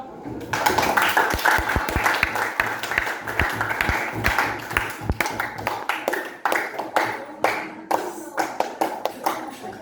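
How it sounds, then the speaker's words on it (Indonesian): A classroom of students gives applause for a presenting group, a dense, steady burst of many hands clapping close by that continues for several seconds with a few sharper claps standing out. "Beri aplaus dulu dong"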